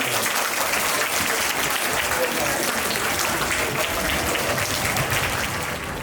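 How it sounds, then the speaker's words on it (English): A school audience claps loudly and continuously in a big, sustained round of applause that fills the room before tapering slightly at the end. "Could we give them all a very big clap?"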